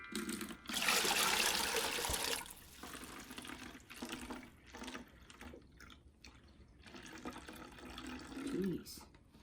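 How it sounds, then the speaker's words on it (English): Hydrogen peroxide poured into a water bottle for an at-home elephant toothpaste experiment, a loud gushing splash up front that tapers into softer trickles and drips, with a voice speaking afterward. "We're gonna add that into our water bottle."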